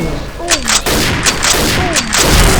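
Sniper rifle shots ring out in an online shooter game, loud and sharp, with several cracks spaced about half a second to a second apart over busy game noise.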